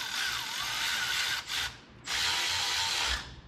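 Hand ratchet tightening washers on a 1976 GMC, producing rapid clicking bursts in two runs separated by a brief pause, fairly close and clear with no talk.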